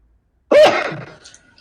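A single sharp sneeze bursts out at close range, then trails off into a breathy, fading exhale.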